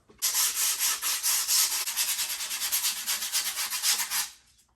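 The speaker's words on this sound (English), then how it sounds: "sometimes people say I overdo it with my sanding" Rapid back-and-forth strokes sanding skateboard grip tape, a rhythmic scratchy rasp repeating about twice a second, close and clear, fading out at the end.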